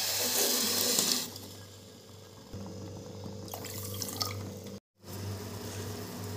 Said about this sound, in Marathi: 1/2 कप पाणी घालणार आहे